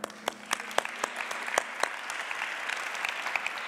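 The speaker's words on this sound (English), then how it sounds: "We must clap to Herner, yeah?" Audience at a Latin dance camp lecture clapping for a teacher, moderate applause with a few sharp, distinct claps standing out near the start before it settles into a softer, even patter.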